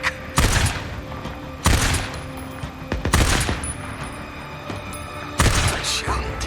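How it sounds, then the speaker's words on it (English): Gunfire in the video game Days Gone rings out as several separate loud bursts of shots with short pauses between them, layered over a low battle ambience. "Good shooting, Take. Keep it up"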